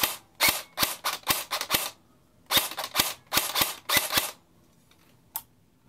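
A JG MP5 airsoft gun with a full stock, freshly serviced and reshimmed, fires sharp, loud single shots in two quick volleys of about six and seven, followed by one last shot after a pause.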